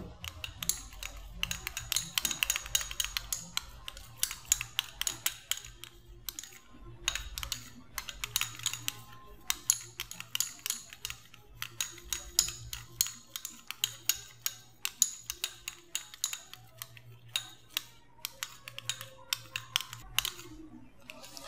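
Vaseline lotion mixture being stirred in a bowl, heard as rapid, steady clicking and tapping of a utensil against the bowl that goes on close and continuous, with no voices.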